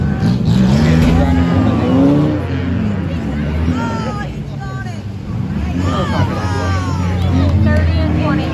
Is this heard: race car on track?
yes